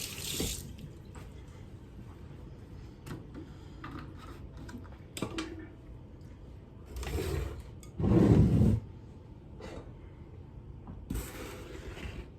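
A sink tap runs steadily in a home kitchen while hands are washed beneath it, with a louder gush of water near the end and a few small clicks and knocks, all close and without speech.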